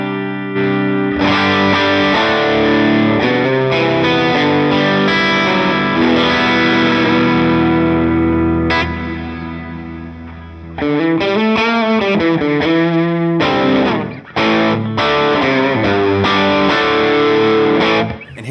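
Electric guitar runs through a Line 6 Helix with drive 2 boosted and presence raised, heavily distorted riffs and chords playing loud and continuous, with a brief drop near the middle and no talk.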